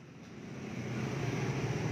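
A motorcycle with a newly fitted exhaust gives a loud, steady roaring drone that swells slightly and holds, close by and without speech.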